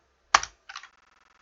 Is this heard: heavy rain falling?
no